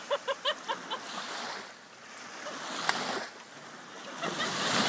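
Small lake waves wash in to shore, a soft shifting splash and swash rising and falling, with a few quick rhythmic knocks at the start and a steady outdoor hiss underneath.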